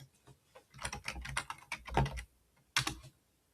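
Close, rapid keystrokes on a computer keyboard as network commands are entered, a dense run of clicks with a short pause before a final sharp tap, no voices.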